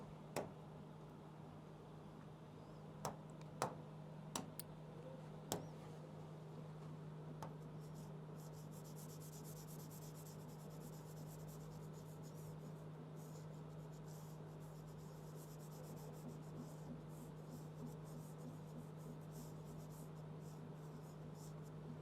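Steady scratching of a pen or chalk writing during a recorded geography lecture on geomorphic processes, faint and continuous over a constant low electrical hum, with a few sharp taps early on.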